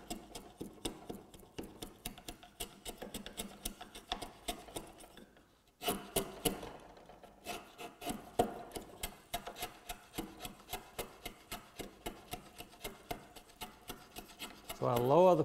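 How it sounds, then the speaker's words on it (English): Chisel paring a wooden tenon by hand, a run of repeated short rasping and scraping strokes, close and fairly steady with a brief pause partway through, with no talking. "So I lower the point of my chisel down to my surface, and then it's just clean up after that."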